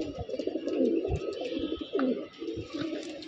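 Pigeons coo in a loft of Giribaz and coloured fancy pigeons, the soft rolling coos overlapping in several close bursts throughout, with a steady murmur of other birds behind.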